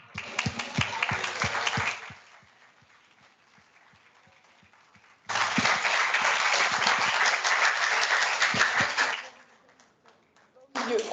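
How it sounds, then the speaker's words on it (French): Audience applause at a school science presentation event comes in two strong bursts of dense clapping separated by a quieter stretch of scattered claps, then rises again briefly at the end. "On leur fait un tonnerre d'applaudissements."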